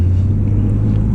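A Porsche 911 with its stock factory exhaust drives along, giving off a steady, low, subdued engine rumble with no revving, heard close and constant for about a second.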